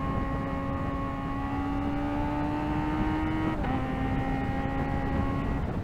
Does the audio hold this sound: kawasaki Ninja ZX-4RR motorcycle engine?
yes